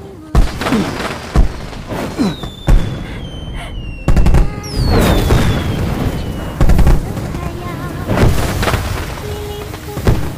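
Fireworks bursting in a night sky, several sharp booms at irregular intervals with whistling rising streaks between them, loud and close, with music and other effects layered in.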